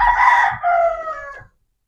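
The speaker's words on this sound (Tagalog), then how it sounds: "Meron po akong manok na nagpa-practice na tumilaok" A young rooster tries out its crow, one strained, wavering call of about a second and a half that breaks partway through, loud and close, with no talk over it.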